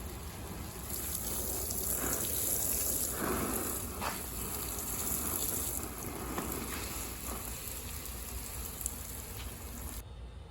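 Water pours steadily over soil where squash seeds were just planted, a continuous close hiss and patter like rain that swells and eases slightly, with no voices.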